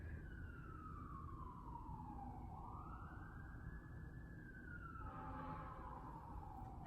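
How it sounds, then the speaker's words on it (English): Distant emergency sirens wail, their pitch sweeping slowly up and down over a steady rumble of city traffic. "I'm sorry about the sirens."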